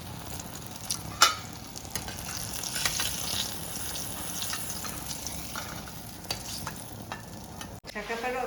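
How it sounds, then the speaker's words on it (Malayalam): Jackfruit pieces fry in hot oil with a continuous close sizzle and crackle. Stirring scrapes and clinks break through now and then. "ചക്കപ്പഴമൊക്കെ ദേ അങ്ങനെ വറുത്തെടുത്തിട്ടുണ്ട് കേട്ടോ"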